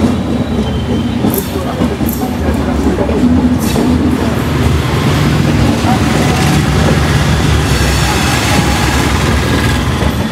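Train compartments rumbling and clattering at a railway washing yard near Majestic station in Bangalore, a steady dense mechanical roar with faint wheel clacks throughout, fairly loud and continuous, with no clear talk over it.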